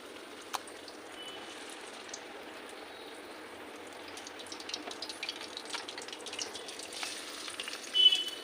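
Ash gourd pieces coated in gram flour batter fry in hot oil, giving a steady, quiet crackling sizzle that grows a little busier toward the end, with a few faint clinks.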